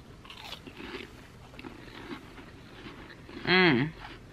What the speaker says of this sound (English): Let's try it with a cracker.